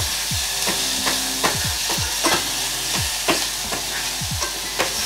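Onions sweating in a pan over lowered heat, a steady close sizzle punctuated by repeated scraping stirs and soft clinks of a utensil against the pan, with no talking.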